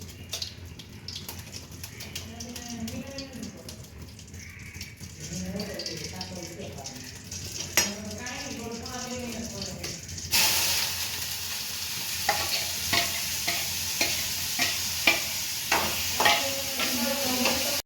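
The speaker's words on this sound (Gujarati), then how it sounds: "વઘારવા માંડ્યા છે મેગીને" Maggi noodles are tempered in a pan in a village kitchen: voices talk over a quiet stretch, then a loud sizzle bursts in and continues with stirring clinks and scrapes.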